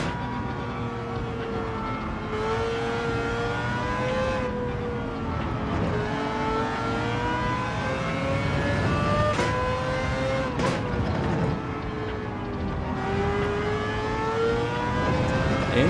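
Race cars in Gran Turismo 7 drone steadily with engine notes rising and falling through gear changes and revs, a continuous close motor whine filling the whole stretch without talk.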